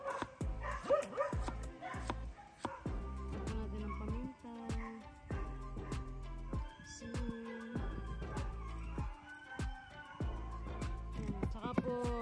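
Dogs bark in bursts through a home kitchen while Bagnet and spicy Ginataang Laing are cooked, with loud sizzling and clatter and the cook talking over it.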